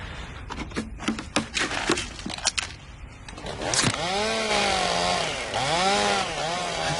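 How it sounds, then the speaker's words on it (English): A chainsaw revs up loudly after some clattering knocks, its engine rising and falling in repeated surging pulls, close and sustained. "I thought I told him to bag that chainsaw."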